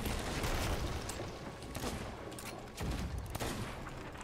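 Ship cannons fire repeatedly in the pirate game Sea of Thieves, a dense rolling barrage of booms and sharp cracks that stays loud throughout, with no voices.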